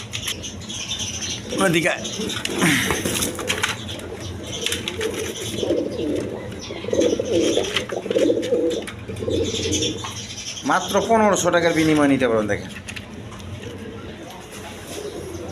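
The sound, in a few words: pigeons cooing at a pigeon farm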